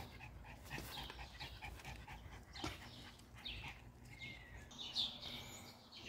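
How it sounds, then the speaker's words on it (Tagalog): A dog pants softly and rhythmically during an outdoor walk, quiet and fairly close, while birds chirp faintly in the background and occasional rustles and footsteps pass by. "Palakad ng aso."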